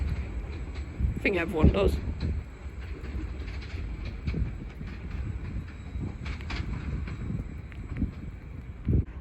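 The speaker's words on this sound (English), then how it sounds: "I do like that noise when they clatter over the points." A passenger train rolls past Bethnal Green on the Great Eastern main line. It gives a steady close rumble with rhythmic clattering over the points, and someone speaks briefly over it.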